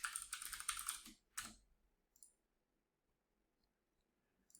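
Computer keyboard typing as a student enters a room code to join a Socrative quiz: a quick, dense burst of keystrokes for about a second, a short second flurry, then a stray click before quiet.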